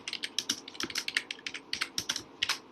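Quick, uneven keystrokes clatter on a computer keyboard while typing in Excel, close and fairly quiet, with no talking.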